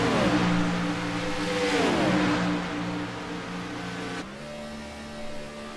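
Race cars roar in the iRacing video game, a continuous engine drone with pitch sweeping down then rising as they shift and accelerate, loud and close, with a sharp change in tone near the end; no talking.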